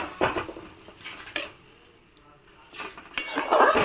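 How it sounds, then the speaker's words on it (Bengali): A spoon clinks and scrapes against a pan while potato curry with its spices is stirred, the scraping coming in short bursts separated by quieter gaps. "এগুলো অ্যাড করার পর এটাকে একটুখানি নেড়ে দিচ্ছি।"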